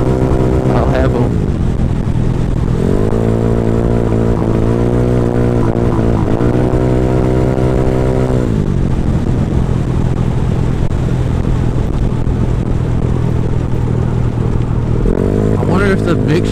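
A Honda Ruckus scooter engine with a choppy throttle idles and revs in uneven bursts, rising and falling in pitch several times close to the mic, with a steady low rumble between the revs.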